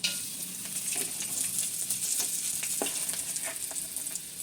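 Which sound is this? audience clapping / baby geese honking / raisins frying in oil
raisins frying in oil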